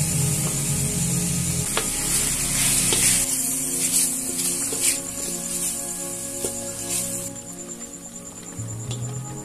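Ground beef sizzles and fries in a pan, a bright continuous crackling hiss with occasional stirring scrapes, loud and close, alone without talk.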